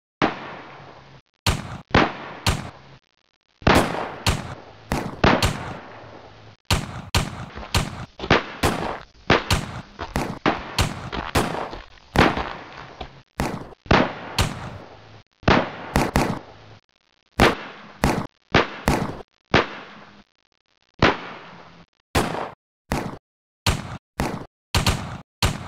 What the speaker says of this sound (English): Prepare to fire! Fire! Fire at will!